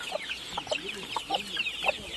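Hungry young pullets in a coop cluck and peep continuously, a dense near chorus of overlapping calls with no speech.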